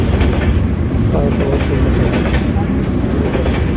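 A train rolls past close to a station, its steady rumble and faint rhythmic wheel clatter filling the clip without pause, with a hint of voices mixed into the noise.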